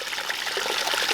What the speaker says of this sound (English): I increased the water flow, so it's a big old raging waterfall